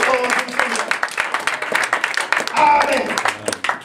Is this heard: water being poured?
no